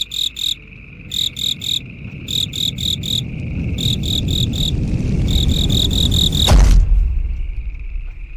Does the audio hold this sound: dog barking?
no